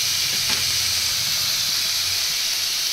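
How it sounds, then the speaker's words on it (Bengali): Chopped tomato hits frying prawns with ginger-garlic paste in hot oil, sending up a loud, steady sizzling hiss that stays constant throughout, close and with no talking over it. "এবারে দিয়ে দেব টমেটো কুচি"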